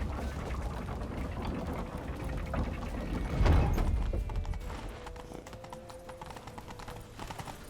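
Rhythmic clip-clop of a horse's hooves at speed in The Witcher 3 video game, with a swelling rush of movement and faint mechanical clatter in the background.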